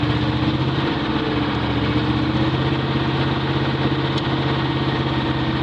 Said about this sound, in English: Right there, the engine picks up. Higher RPM.